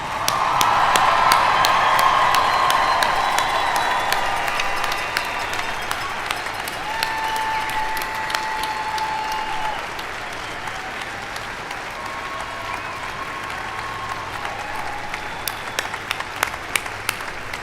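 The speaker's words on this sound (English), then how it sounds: "please stand with me and give a very appropriate ovation" Sustained standing ovation at a university commencement ceremony, a large crowd clapping steadily with occasional whoops, loud at first and then settling into a slightly softer, even applause that carries on alone.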